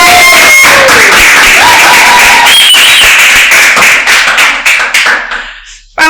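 Close, loud clapping for female guests in a podcast studio in Portuguese, a few hands slapping in uneven, sharp bursts rather than a large crowd, tapering off near the end.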